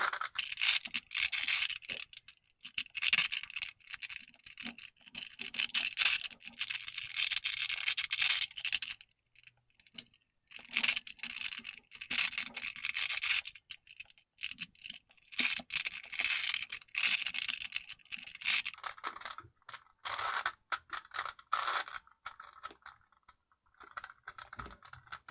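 A 5x5 Rubik's Cube being turned during solving gives bursts of rapid, close plastic clicking and scraping, broken by short pauses between sequences of moves.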